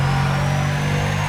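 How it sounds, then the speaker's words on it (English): A Mercedes SL65 engine in a Need for Speed ProStreet mod runs as a steady, loud, close drone with a fixed low hum and a faint rising whine, holding constant with no speech. "It's just got the SL65 engine sound"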